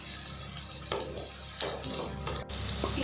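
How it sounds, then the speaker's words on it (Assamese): Carrots fry in a pan for chicken chowmein, a steady close sizzle with occasional scraping stirs and light clatter, no voices over it. "1 মিনিটমান সময় এইখিনি মই ভাজি ল'ম"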